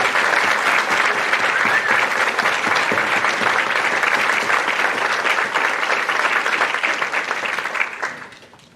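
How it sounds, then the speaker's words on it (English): Loud, dense applause fills a school academic awards assembly as the audience claps for those being thanked, sustained and even for several seconds before tapering off quickly at the end. "Let's give them another round of applause."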